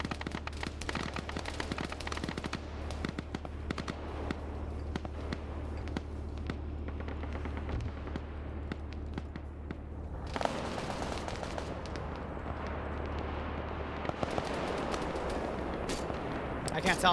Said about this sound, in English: I can't tell if that MRAP's shooting from over here or what